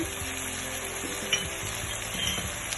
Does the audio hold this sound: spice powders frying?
yes